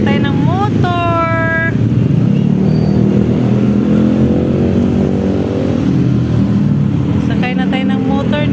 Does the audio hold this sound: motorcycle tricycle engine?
yes